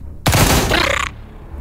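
A single loud burst of gunfire from the squad tactics game Xenonauts 2, a dense roaring blast lasting under a second followed by a fading tail, close and alone.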